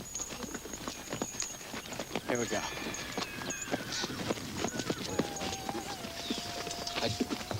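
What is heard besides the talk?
horses clip-clopping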